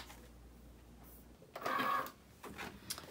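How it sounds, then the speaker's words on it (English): A Cricut cutting machine working on a sheet of vinyl, a faint mechanical whir followed by a short, louder motorized buzz and a few small clicks, quiet with no voices. "load this into my Cricut machine"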